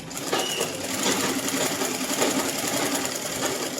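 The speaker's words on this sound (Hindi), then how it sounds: "इसके ऊपर एक सिलाई इधर वाली साइड लगाएंगे" Sewing machine running steadily while stitching lace onto the edge of a dupatta, a close, continuous mechanical whir with fine rapid needle ticking and no pauses.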